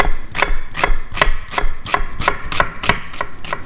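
A knife cuts a firm onion into really thin slices for a salad, each stroke landing on the board as a crisp chop in a quick, even rhythm of about three per second, close and loud with no talking.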